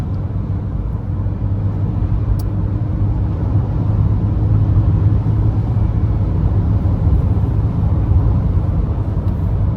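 A 2025 Ford Ranger Wildtrak with a V6 engine drives along, heard from inside the cabin as a steady, loud, low drone of engine and road noise that holds evenly throughout, with no talking.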